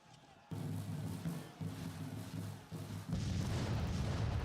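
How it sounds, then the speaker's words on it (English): Artillery bombardment in Grand Tactician: The Civil War, deep rumbling booms rolling one after another into a sustained heavy roar, loud with no talk. "the artillery bombardment has begun"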